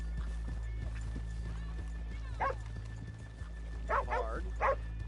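Horse hooves clip-clop in Red Dead Redemption 2, a soft, irregular patter close by, with a few louder snorting or whinnying bursts near the end over a steady low background hum.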